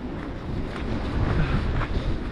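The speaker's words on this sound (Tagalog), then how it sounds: "kasi malamig yung hangin." Cold wind buffeting a microphone on a solo day hike, a loud, constant low roar that swells slightly toward the end, with no talking.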